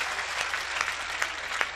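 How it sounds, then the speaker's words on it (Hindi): An audience at a Hindi comedy poetry gathering claps loudly to welcome a poet, a continuous dense patter of many hands with a few sharper claps standing out, brief and steady. "आप सबसे निवेदन करता हूं मेरे स्वागत में दोबारा जोरदार तालियां बजाएं"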